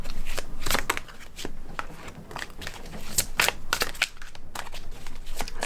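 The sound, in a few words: shuffling and drawing tarot cards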